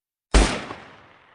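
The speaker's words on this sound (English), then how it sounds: "You hear more gunfire." A single loud gunshot cracks close by on a Facebook Live stream, followed by a long, fading reverberant tail in an indoor space.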